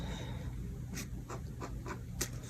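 A pencil scratches across paper in short, quiet strokes during a sketching session on the neck and shoulders, a soft close scratching over faint background hiss.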